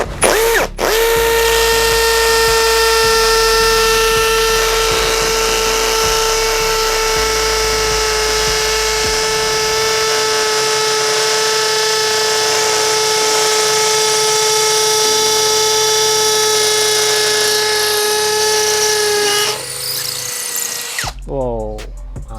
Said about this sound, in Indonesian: Kita coba akan ngebor di paving block ya teman-teman.